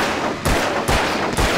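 Gunfire in the video game Alan Wake: three loud, sharp gunshot blasts fired at a steady pace, each with a booming low thump, over continuous dense background game noise with no talking.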